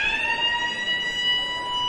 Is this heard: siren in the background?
yes